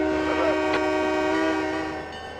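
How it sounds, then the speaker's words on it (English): A diesel locomotive horn sounds in the Trainz 22 railroad simulator on a tunnel-heavy route, one loud sustained chord held steadily for about two seconds before tapering off, with no talking. "There's a lot of tunnels on this route here, so better blow the horn."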